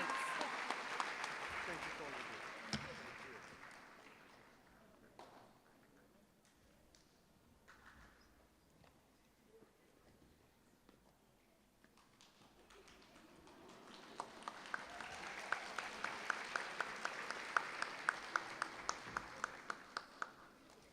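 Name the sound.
round of applause at awards ceremony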